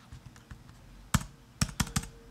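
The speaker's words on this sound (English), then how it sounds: "And now I can start typing right in the Google document." Computer keyboard typing in a quiet room, a few soft keystrokes followed by a short cluster of sharper, louder clacks, close and without speech.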